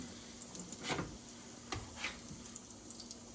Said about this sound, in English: I hear that nice sizzle noise